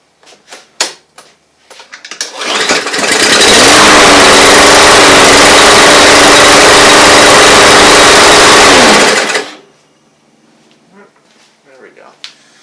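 A Briggs & Stratton lawnmower engine is pull-started with a few rope tugs, catches and runs loud and steady for about six seconds before cutting out, followed by quiet handling noises.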